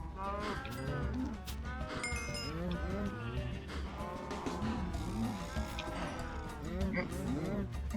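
Cows moo repeatedly in a Minecraft farm pen, several overlapping calls spread across the clip alongside other game sounds, at steady moderate loudness with no speech.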